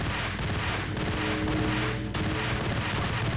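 Rapid submachine gun bursts from an Ingram in the Max Payne shooter game, steady dense fire continuing throughout with brief gaps between bursts.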